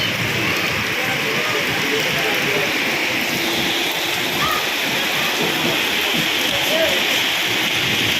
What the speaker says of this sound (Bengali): তো দেখুন আজকে দুবাইয়ের অবস্থা, কি বৃষ্টি হচ্ছে।